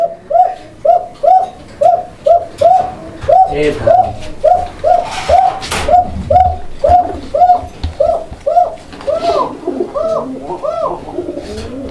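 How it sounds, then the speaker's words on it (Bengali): A male cocker pigeon coos over and over in a steady, loud, rhythmic series of close calls at a busy pigeon market, with faint crowd murmur beneath. "তো ভাবলাম যে কোকাটা যেহেতু ডাকতেছে, আমি আমার দর্শকদেরকে একটু শুনাই দিই"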